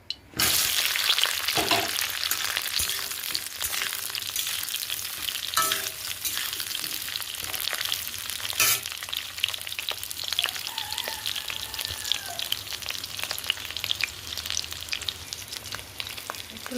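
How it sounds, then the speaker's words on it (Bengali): Brinjal pieces fry in hot oil in a kadai wok, making a loud, steady sizzle with crackling spatter throughout and a few sharper pops, all close up with no voices. "কড়াইতে তেল দিয়েছি তেল গরমও হয়ে গেছে এবার বেগুনগুলো ভেজে নেবো"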